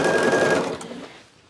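A sewing machine stitches quilt seams in a close, steady buzzing run that winds down and stops partway through, leaving a quiet tail with no talk.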